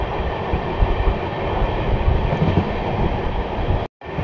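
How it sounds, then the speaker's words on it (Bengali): The Kolkata-Sairang Express rumbles past close by on its approach to the Nasipur bridge, a steady loud roar of wheels and carriages with clattering rail noise throughout. "Kolkata Sairang express Nasipur bridge cross করবে"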